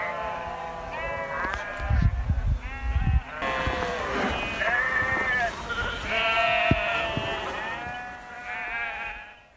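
A flock of sheep being herded in the San Juan mountains of Colorado bleats repeatedly, many overlapping calls near and far, with some low rumbling underneath early on.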